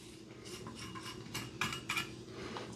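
A spoon lightly clinks and scrapes against a small shot glass while Baileys is layered, making several quiet, close taps and rubs spaced unevenly over a few seconds.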